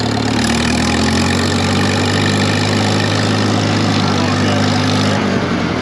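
Farmall 706 Hi-Clear tractor engine running at a steady, loud idle with a deep, even drone throughout, shifting slightly in tone just before the end.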